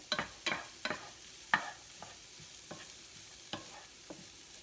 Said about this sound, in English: you're going to saute the onions and the garlic for a few minutes, just like this, all dry, in the pan, no oil